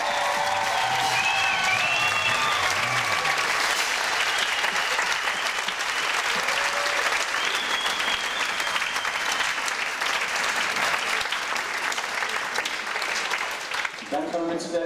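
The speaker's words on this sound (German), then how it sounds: "Ein riesen Applaus für den Jürg Vicky." Sustained audience applause fills a circus music camp show by a music school and circus troupe, dense and steady throughout, with faint voices and tonal music traces early on before it tapers near the end.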